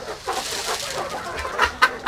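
Ornamental chickens and roosters on a farm cluck in short, scattered bursts, fairly close, with a few sharper calls toward the end over a quiet background.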